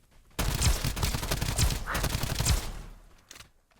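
Gunfire in the video game Escape from Duckov: a sudden dense burst of rapid shots, loud and close, running for about two and a half seconds before tapering into a few scattered final rounds.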